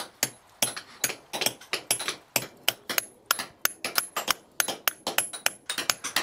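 A steel chisel struck repeatedly with a hammer while carving stone at a medieval castle building site, sharp ringing clinks in a steady close rhythm with no talk.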